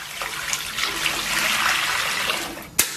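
Running water splashes continuously over pork leg bones as they are rinsed, a moderately loud steady wash with a sharp clatter near the end.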